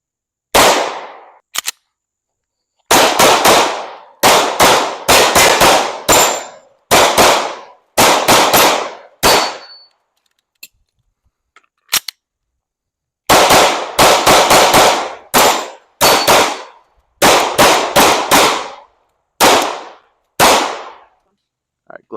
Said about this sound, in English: So I'm gonna keep shooting.